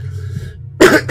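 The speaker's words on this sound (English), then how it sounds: "Making myself cough." A person coughs deliberately, two sharp close bursts following a low steady hum and faint background music.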